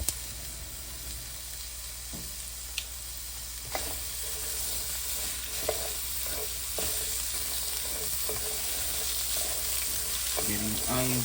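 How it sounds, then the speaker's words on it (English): White onions sizzle steadily in a hot pan for a beef roast, with a constant frying hiss, occasional stirring scrapes and clinks near the end. "Give these onions a nice little saute"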